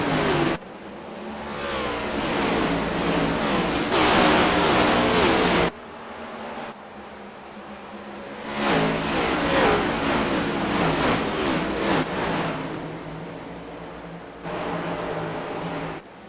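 Race cars accelerate hard at the green flag for round 5 of the Lucas Oils 2024 Aussie Outlaw Series at Bristol. Loud, roaring engines surge and fade in waves of revving as the pack gets away.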